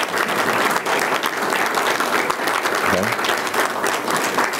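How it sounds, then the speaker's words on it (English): An audience gives a round of applause at a Suffolk Community College event tied to the 2014 Yonex US Open Badminton Championships, with dense, steady clapping throughout and a few faint voices underneath. "we just want to give them a round of applause for a job well done"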